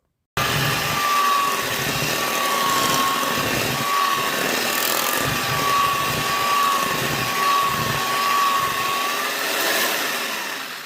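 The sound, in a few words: electric mixer mixing chocolate cheesecake batter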